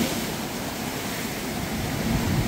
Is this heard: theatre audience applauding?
no